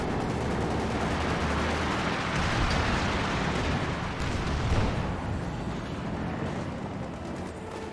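Tank gunfire battering a Volkswagen vehicle in the strategy game Company of Heroes 2: dense, continuous rumbling barrage of shots and impacts, loud and sustained throughout with no pauses.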